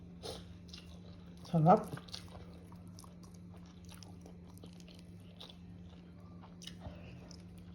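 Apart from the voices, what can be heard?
eating onions dipped in vinegar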